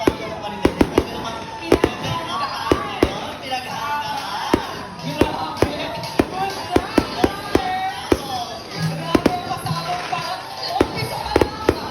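A steady barrage of firework pops and cracks goes off at irregular intervals at the start of a running race in Mariveles, Bataan, loud and nearby, with crowd noise and chatter underneath.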